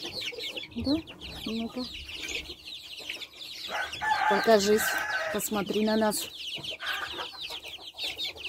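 Hens and a rooster in a poultry yard cluck and call close by, in repeated bursts of varied pitch, while a person talks to the birds at intervals between and over the calls.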